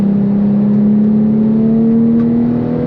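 A Porsche 997.2 GT3's naturally aspirated engine pulls hard on the Nürburgring, heard from inside the car as a loud, continuous drone whose pitch climbs slowly under acceleration.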